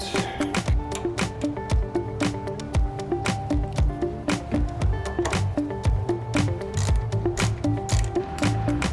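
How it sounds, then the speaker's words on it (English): A ratchet with a 10mm socket tightens a ground bolt into the passenger motor mount of a Mazdaspeed 3, giving rapid clicking bursts in quick repeated strokes, close and loud, with no talk. "install that ground into the passenger motor mount using a 10mm socket"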